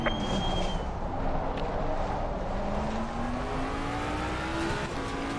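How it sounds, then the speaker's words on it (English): In a racing video game on the Zolder circuit, race car engines whine and rise in pitch as a faster car closes in and passes, overlapping engine tones heard loud and near under continuous track noise. "Faster car coming up behind. Watch out."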